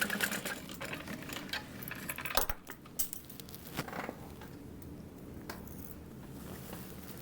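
Sewing machine stitching a seam on a Sarah Bag backpack, bursts of rapid mechanical whirring broken by clicks and short pauses, close and moderately loud.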